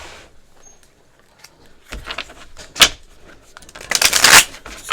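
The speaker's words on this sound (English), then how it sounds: "we're going to give it a good shuffle." Brisk papery riffling of cards being shuffled, several quick bursts growing louder toward the end, close by with no voices.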